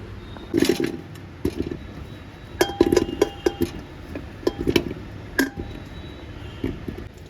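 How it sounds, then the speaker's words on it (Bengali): Cut potatoes dropped into a pressure cooker for aloo dum, heard as a series of close, sharp clinks and clattering thumps in irregular bursts, separated by brief quiet moments over a low background hum. "এখন এগুলোকে প্রেসার কুকারে দিয়ে সিদ্ধ করে নেব"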